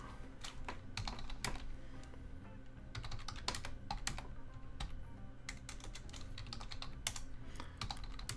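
Someone types on a computer keyboard, with quick irregular clusters of close, crisp key clicks and brief pauses between bursts, quiet and alone throughout.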